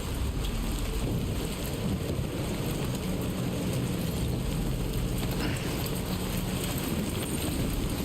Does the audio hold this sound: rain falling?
yes